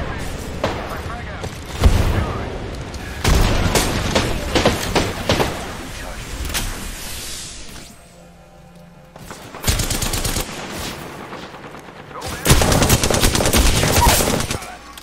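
Gunfire in a video game sounds in repeated bursts of rapid shots and booms, loud and close, broken by quieter lulls, with a voice talking now and then between the volleys.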